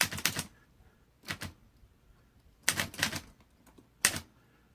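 A 1960s Italian-made Olivetti Underwood Lettera 32 manual typewriter types in quick bursts of sharp key strikes, four clusters separated by short pauses, close and clear with no voices.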